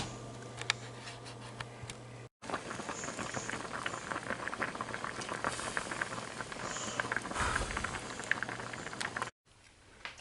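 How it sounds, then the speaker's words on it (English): Continuous bubbling and popping of mango boiling with vinegar and garlic in a pot, steady crackle with brief gaps. "the mango has been boiling and it's now soft, along with the vinegar and the garlic"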